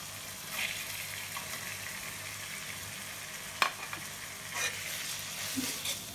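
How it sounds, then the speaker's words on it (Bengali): Prawns frying in a pan of cooked-down spice masala make a steady, fairly quiet sizzle with occasional stirring scrapes and one sharp utensil clack partway through. "মশলা কষানো হয়ে গেছে, এখন আমি চিংড়ি মাছ দিয়ে দিব।"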